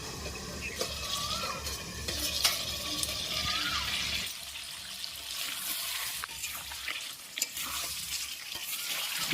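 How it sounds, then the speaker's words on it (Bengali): Country chicken sautéing on low heat in a pan, a soft continuous sizzle with occasional stirring scrapes and clinks, fairly quiet and close, fuller at first then thinning out, no talking. "এবারে চার পাঁচ মিনিট ধরে উনুনের আঁচটা কমে রেখে রেখে চিকেনটা খুব ভালোভাবে কিন্তু কষে নিতে হবে"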